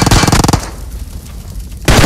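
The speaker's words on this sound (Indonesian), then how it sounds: "Jadi mobilnya meledak tapi tertembak oleh Ice terserah" Rapid gunfire bursts in PUBG Mobile, with a loud volley at the start, a quieter rumbling stretch, then another dense burst of shots at the end.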